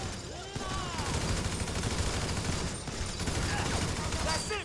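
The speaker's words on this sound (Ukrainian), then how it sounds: "за Тревора набагато кайфовіше стріляти" Rapid bursts of gunfire in the video game Grand Theft Auto V crackle almost continuously, with a voice talking intermittently over the shooting.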